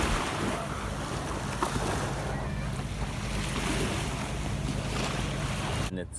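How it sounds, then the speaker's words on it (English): Waves wash onto White Beach in Boracay in a steady, full surf roar, with wind buffeting the microphone, before the sound cuts off abruptly at the end. "I give you a beautiful pan of white beach in Boracay."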